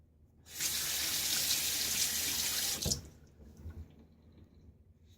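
Water gushes from a tap as a razor is rinsed during a shave, a close steady splashing stream that starts abruptly, runs for about two seconds, then cuts off, leaving a few faint drips and clatters.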